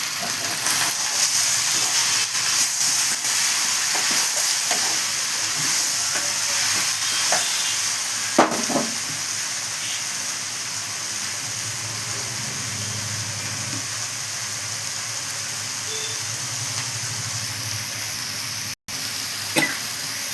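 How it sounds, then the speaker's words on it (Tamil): Mixed vegetables with turmeric for avial sizzle steadily in a hot pan, a constant frying hiss with occasional stirring scrapes and no one talking. "இப்போ நல்லா வதக்கலாம்"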